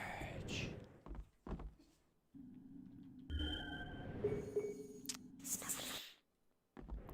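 Whispering spell effect in the Harry Potter and the Prisoner of Azkaban PS2 game: a low droning hum with eerie tonal layers and airy whispered textures, broken by soft thunks and bursts of noise.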